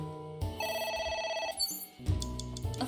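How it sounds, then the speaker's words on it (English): A phone rings in the video game AI The Somnium Files, a loud electronic ringing tone repeating for over a second amid game music, with no talk. "A phone. Should I pick it up?"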